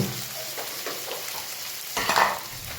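Cashews and peanuts with garam masala fry in hot oil in a home kitchen pan, a steady close sizzle with scraping stirs and a louder burst of crackle near the end.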